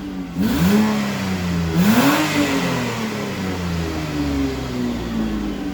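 A 2008 Kia Sportage with its 2.7-litre engine revs hard twice from idle, the pitch climbing and falling in long swells before settling into a steady, loud drone with no talking.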